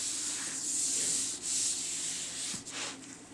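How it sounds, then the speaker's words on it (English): Excess Beacon glue gets rubbed off paper, making a steady, close, dry rubbing and scraping that runs almost without a break and dips only briefly twice. "if you happen to get any glue anywhere you don't want it, it will just rub off."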